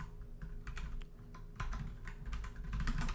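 Quick, uneven bursts of clicking keys on a computer keyboard as code is typed, close and fairly quiet, with short pauses between runs of keystrokes.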